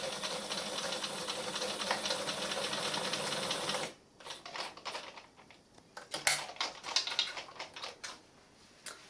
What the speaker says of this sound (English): pivot around 90 degrees and stitch to the end with a back stitch.